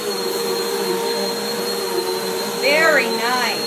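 A Dirt Devil Vigor cyclonic pet bagless upright vacuum runs on carpet with a constant loud motor whine and airflow roar, and a voice rises briefly near the end.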